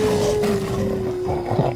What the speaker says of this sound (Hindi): लगता है बाघ और तेंदुआ आपस में लड़ रहे हैं।